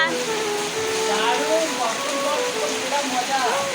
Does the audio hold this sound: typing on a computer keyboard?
no